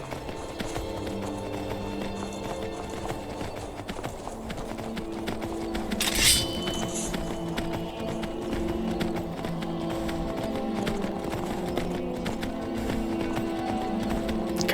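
Horse hooves gallop continuously in the video game Skyrim, a steady clip-clop rhythm over a dense layer of game ambience and music with no pauses.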